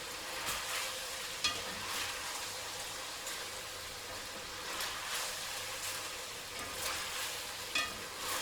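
Continuous crackling sizzle of machkichiri, an Uzbek dish, frying in a large skillet, with soft stirring scrapes every second or so, close and moderately quiet, without speech.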